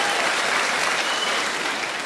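An audience at a comedy show breaks into steady, dense applause that holds evenly for a couple of seconds before easing slightly.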